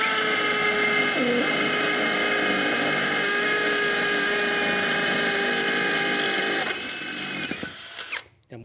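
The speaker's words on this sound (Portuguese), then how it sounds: "Perfuração agora com a broca número 10 Makita." A Makita hammer drill fitted with a number 10 bit bores into a hard cement block, a loud steady whine with a buzzing impact rattle that holds for several seconds before winding down and stopping.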